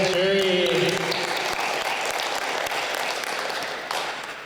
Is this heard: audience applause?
yes